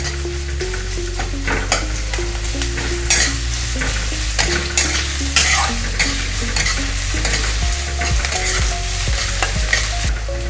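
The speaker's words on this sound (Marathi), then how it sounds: "तर आता हे आपण मस्त व्यवस्थित सगळं फ्राय करून घ्यायचं। 1 ते 2 मिनिटं व्यवस्थित फ्राय करून घेऊया।" Curry leaves and chopped onion fry in a pan for Maggi rice, producing a strong continuous sizzle with repeated spatula scrapes and stirs up close, no voices.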